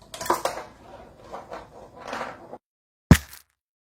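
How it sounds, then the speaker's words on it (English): A marble rolls and rattles across a rice-filled homemade box snare drum with a contact microphone, giving a gritty, buzzy shuffle, then one sharp, snappy hit after a pause. "the rice is what's doing the whole snare-ish kind of sound."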